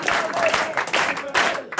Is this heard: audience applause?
yes